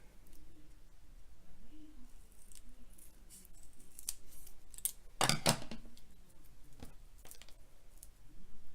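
Scissors snip paper for a handmade Valentine's card, faint quiet cuts scattered over a soft background, with one louder, crisper pair of snips in the middle.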